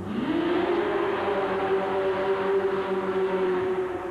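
A loud V6 engine drone from a mud racer with a 1932 Austin Bantam body at a 1990 USHRA event in Cincinnati climbs in pitch, then holds a steady high-revving whine, heard up close throughout.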